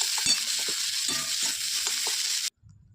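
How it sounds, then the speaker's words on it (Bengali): Shrimp and fish heads fry crisp in a pan, a continuous close sizzle broken by irregular stirring knocks and scrapes, stopping suddenly near the end. "মুচমুচে করে ভাজা হয়ে গেছে"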